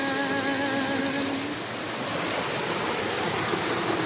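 The waterfall at Cachoeira dos Sonhos in Serra Negra gives a steady, loud, rushing roar of falling water throughout, while a faint melodic tone fades out early on.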